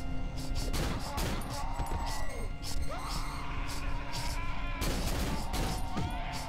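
A new gun fires in Cry of Fear amid a chaotic fight, with steady dense gunfire and crashing bursts throughout, loud and continuous, and two especially sharp heavy bursts standing out.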